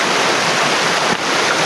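Steady rushing roar of river water pouring over a dam built to trap fish, broadband and continuous at close range with no voices.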